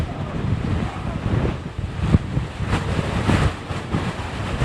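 Storm wind roars steadily with surging gusts and rough buffeting against the microphone, a continuous close blast with no voices.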